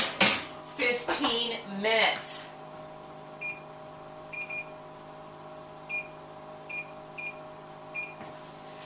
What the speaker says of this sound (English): I'm going to set my timer because these are smaller for about 15 minutes.